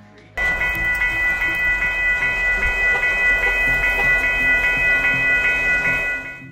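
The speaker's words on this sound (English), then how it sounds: "It takes a lot to stop a freight train" A freight train rolls past up close, starting abruptly with a loud steady rumble and rhythmic clatter of wagons over the rails and a high metallic ringing, before fading near the end.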